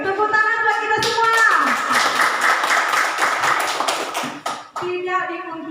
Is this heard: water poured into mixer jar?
no